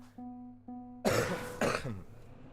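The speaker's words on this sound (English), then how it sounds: "I'm sorry about the cough." Two harsh coughs burst out about half a second apart, close and loud, after a low steady hum and faint tones.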